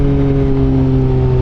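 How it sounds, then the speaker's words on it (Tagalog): A loud motorcycle engine drones close by at a steady, high-revving pitch, with strong harmonic hum and no talk over it. "Kahit sobrang ingay ng motor ko."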